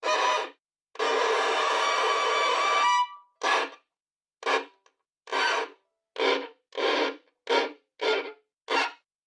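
Scrape effects from a gypsy fiddle sample library: a long bowed scrape followed by about nine short, separate scraping strokes in an even rhythm, played close and clear with silence between them.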